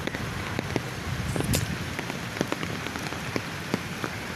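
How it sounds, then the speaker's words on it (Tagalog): Rain falls outdoors on a work site, a steady pattering hiss with distinct nearby drops tapping on surfaces. "Yes, naulan na dito sa aming site."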